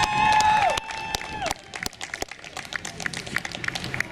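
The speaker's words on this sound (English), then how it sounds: "So we welcome her up here right now and give her a big round of applause." At an outdoor rally, a crowd claps and cheers to welcome a speaker, scattered applause rising after a fading sustained tone and continuing as a loose patter of hands with some voices mixed in.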